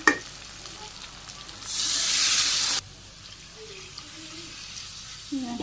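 A pan of chicken curry gives one loud, sharp sizzle lasting about a second, then settles back to quiet kitchen background.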